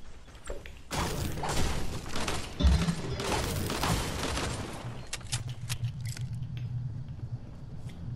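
Rapid bursts of video game gunfire crackle and thump through a busy build-battle match, dense clattering shots over several seconds that thin out into quieter pops toward the end, with no talking.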